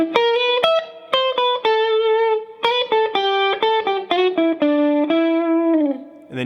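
Distorted electric guitar plays a quick single-note surf-style solo line from the Munsters theme, with picked notes and bends ringing out loud and alone for several seconds.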